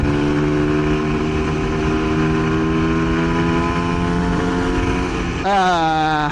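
A Honda NSR SP 150 two-stroke motorcycle engine drones loudly and steadily while ridden on the road from Setiabudi to Lembang in Bandung, then rises sharply in pitch as it revs near the end.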